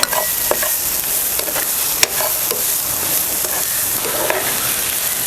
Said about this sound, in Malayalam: എന്നിട്ട് നന്നായിട്ടൊന്ന് വഴറ്റിയെടുക്കാം